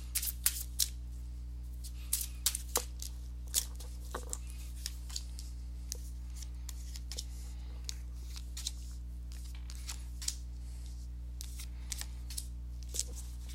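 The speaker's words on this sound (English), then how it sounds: "let me go ahead and give these cards a shuffle" Tarot cards being shuffled: crisp, irregular riffling clicks and snaps over a constant low electrical hum, close by with no talking.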